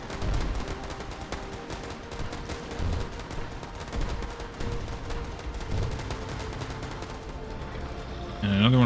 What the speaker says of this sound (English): big tanks are shooting this anchor